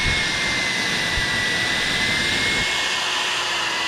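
Confu hair dryer running on its low fan setting with no heat, a steady loud close whoosh of air with a faint whine, unchanging for the whole stretch.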